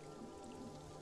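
Rain falling in the video game Pathologic 2, a steady, faint patter of drops on surfaces that stays even throughout, with no voices.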